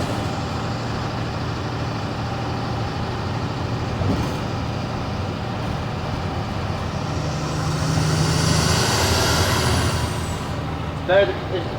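A 2005 Thomas EF school bus with a Cummins 5.9L ISB diesel runs steadily from inside the cabin, with a constant low engine drone, a rising whine near the end, and a brief air-brake hiss.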